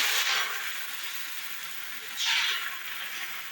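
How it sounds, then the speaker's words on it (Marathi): Thin neer dosa batter hits a hot griddle, giving a bright steady sizzle with two louder hissing surges as more batter is poured and spread. "तवा चांगला तापलाय. आता मी घालते."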